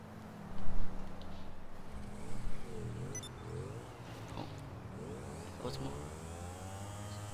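Motorcycle engine in the video game GTA Online revving and changing pitch several times, fairly faint, with someone talking quietly through it.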